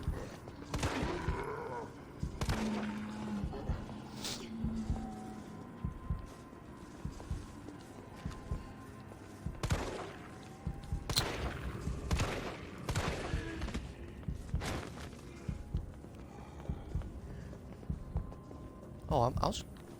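Shotgun blasts in the video game Resident Evil 3, several sharp loud bursts spread irregularly through dense game noise and clatter, with a player talking over much of it.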